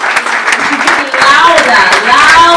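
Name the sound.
audience applause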